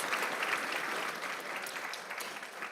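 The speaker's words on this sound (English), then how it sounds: "let's give them one more round of applause" Audience at a school board meeting applauding student artists with steady, sustained clapping from a crowd, moderately loud throughout.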